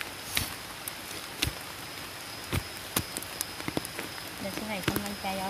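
Rain falls steadily during a hunt for large termite mushrooms in sticky soil, a soft continuous patter with scattered louder drop hits, fairly quiet throughout.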